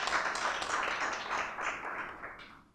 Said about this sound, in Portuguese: a salva de palmas ao garoto.